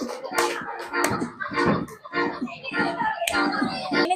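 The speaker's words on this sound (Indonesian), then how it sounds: "Selesai, tepuk tangan semuanya." Scattered clapping from a classroom group of children, uneven bursts of hand claps with some young voices mixed in, close and moderately loud.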